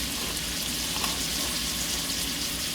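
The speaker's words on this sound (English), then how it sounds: "I continue to brown the ground beef" Ground beef browns in a pan with rinsed black beans over medium heat, giving a steady, close sizzle that holds evenly without a break.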